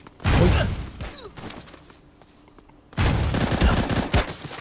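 Bursts of loud, rapid gunfire-like blasts and crashes from the shooting video game Bullet Angel: Xshot erupt at the start, fall away to quieter clatter, then a second heavy barrage follows.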